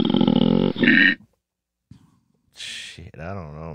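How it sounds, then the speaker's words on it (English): Koala bear call: a run of deep, rough, harmonic grunting bellows, loud and close, broken by a silent gap and then a hissy breath before more throaty groans. "It is a koala bear. That's the sound of a koala bear."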